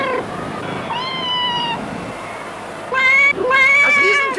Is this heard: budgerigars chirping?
no